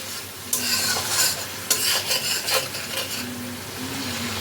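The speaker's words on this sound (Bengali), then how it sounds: "মশলাটা কষানোর সময় এর মধ্যে দিয়ে দিচ্ছি সামান্য পরিমাণে নুন।" Spice paste with a little salt being sautéed in a pan, a utensil scraping and stirring in short bursts over a steady close sizzle.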